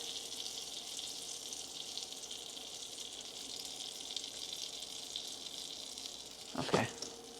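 Butter sizzling in a hot frying pan while French toast is made, a steady soft hiss throughout, broken by a brief clatter near the end.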